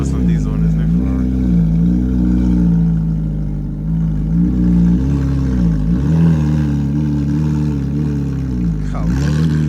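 A loud Ferrari sports car engine drones steadily at a car show, its pitch swelling and dipping through several revs over about ten seconds, with people talking over it.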